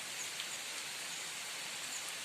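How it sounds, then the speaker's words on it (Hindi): Heavy monsoon rain pours down steadily in a Uttarakhand mountain village as a dense, even hiss with no breaks. It sounds close and all around, with no voices. "फिलहाल लग चुकी है मोटी बारिश और हमें यहीं पर रुकना पड़ेगा थोड़ी देर और"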